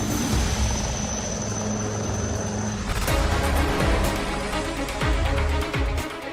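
An army helicopter flies overhead amid monsoon flood damage in Rajouri, Jammu and Kashmir, its loud rotor chop thudding steadily and close throughout, with no voices.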